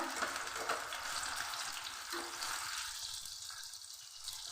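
Onion paste and ginger-garlic paste drop into hot oil, giving a loud, steady, crackling sizzle that runs close and unbroken, with a few soft knocks beneath.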